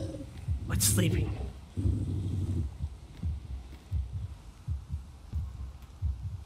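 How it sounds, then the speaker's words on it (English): A monster's heartbeat in the video game Dragon's Dogma II, a slow, regular, low thumping pulse that repeats steadily, heard after a brief burst of louder game sound. "I hear the heartbeat, that's so cool"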